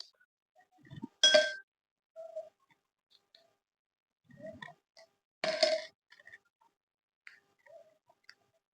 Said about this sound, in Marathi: बर्फाचे तुकडे घालून घेऊयात.